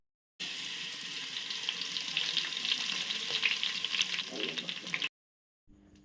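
Close, steady sizzling of fenugreek and cumin seeds frying in hot oil, continuous for several seconds before cutting off.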